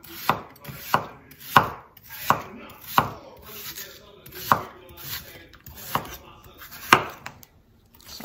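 Rapid knife chopping of a store-bought onion on a cutting board for French onion soup, a steady series of about eleven sharp, evenly spaced chops heard close and clear with no talk.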